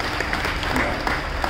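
An audience at Sunil Laxman More's retirement function applauds steadily, a dense, even wash of many hands clapping throughout, with no pauses.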